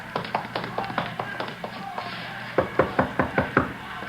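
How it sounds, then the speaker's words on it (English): Knocking on a door in a 1950 radio police drama: a steady run of sharp raps, then a louder, firmer series of knocks, close and clear with no speech over them. "You're knocking on the door."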